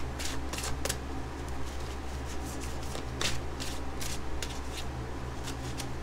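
Playing cards riffle and snap in quick, uneven bursts over a low steady hum, close by and fairly quiet, with short pauses between shuffles.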